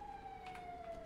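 A police siren sounds in a video game roleplay, a single wailing tone sliding slowly downward, faint and distant and heard alone.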